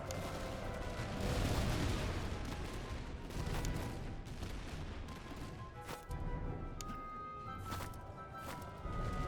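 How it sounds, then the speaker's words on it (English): Continuous musketry volleys crackle and boom in a Master of Command battle, dense overlapping gunfire rolling on without pause at moderate loudness, with no talk over it. "And you guys can open fire."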